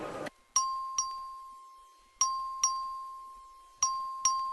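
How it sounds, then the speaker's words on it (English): A legislative chamber's vote bell rings in six sharp, bright dings in uneven pairs, each tone ringing out and decaying over a low hum, with no talking. "Clerk, ring the bell."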